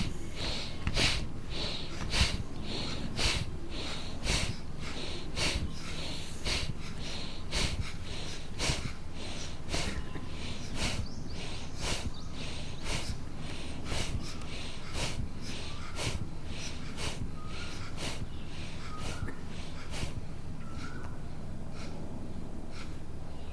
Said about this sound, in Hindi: और अभी सांस भर के कंधा ऊपर,